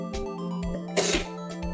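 A single sharp sneeze bursts out near the middle, close and loud, over a low steady hum with faint background tones.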